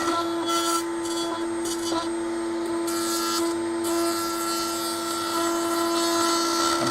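A router spinning down in a router table lift with an extension bit holder fitted, a steady high whine with faint vibration as it slows, continuous and fairly close throughout.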